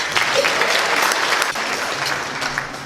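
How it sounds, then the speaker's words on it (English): Gala audience applause at the 100 Black Men of Omaha Men of Honor event, a steady, even wash of many hands clapping for a few seconds. "please give a round of applause now for Trayton Marshall and Damon Strong"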